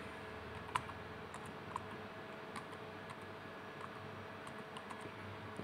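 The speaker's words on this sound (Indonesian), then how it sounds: "Kita ketikkan." Someone types a password on a computer keyboard, producing a sparse run of soft, faint key clicks at an irregular pace, close up in a quiet room with no talking.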